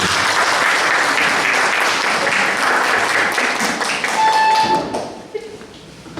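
An audience at a madrasah leadership handover ceremony claps together in a loud, busy patter, ending abruptly around five seconds, leaving a brief tone and near quiet.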